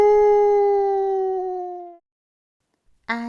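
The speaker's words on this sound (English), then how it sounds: "the howling dog" A dog gives one long, steady howl that gradually fades out, followed after a brief silence by the start of another howl.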